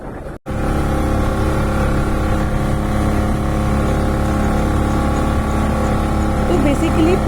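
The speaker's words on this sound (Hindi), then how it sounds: "तो कन्वीनियंट यहाँ पर इस तरह की बोट्स रहती हैं, मोटर बोट्स हैं ये" Motor boat engine droning loudly and steadily on backwaters, a constant close rumble after a brief drop at the start.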